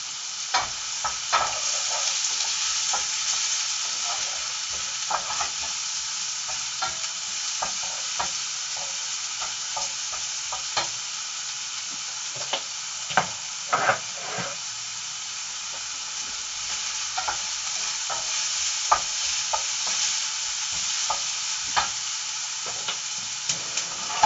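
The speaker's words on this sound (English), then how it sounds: "that onion I put in is now starting to sizzle." Onion and garlic sizzle steadily in a frying pan for homemade pizza topping, a continuous close crackling hiss with occasional louder pops and stirring scrapes, no talk.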